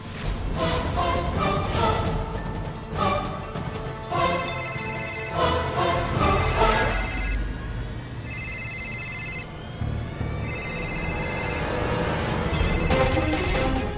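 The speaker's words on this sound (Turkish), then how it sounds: "Telefon yakınlarda çalıyor." A telephone rings repeatedly in regular electronic bursts, loud and close, over a busy background of music and other sound.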